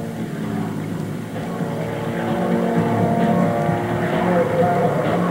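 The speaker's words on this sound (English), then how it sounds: "Jim also flies a solo routine in the Waco Mystery Ship" A Waco Mystery Ship biplane's engine drones steadily through a solo wing-walking routine at an air show, a continuous throbbing roar that grows slightly louder partway through.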